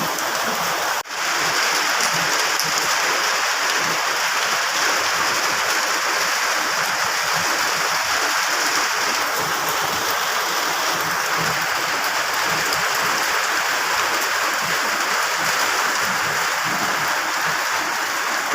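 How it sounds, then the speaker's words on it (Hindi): Heavy rain pours outside in a dense, steady hiss and patter that runs unbroken and loud throughout, with no voices over it. "बहुत तेज़ बारिश हो रही है"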